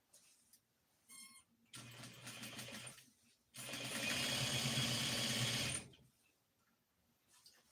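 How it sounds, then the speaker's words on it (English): A sewing machine runs in two bursts, a shorter stitching run and then a longer, louder steady whir lasting a few seconds, with quiet gaps between and no talking. "I love to listen to the sound of a sewing machine"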